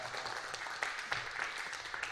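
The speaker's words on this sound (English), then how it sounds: "Can everybody give Aidan the biggest round of applause." Audience applause at a family comedy show, a brief patter of scattered clapping at moderate level with a few sharper claps standing out.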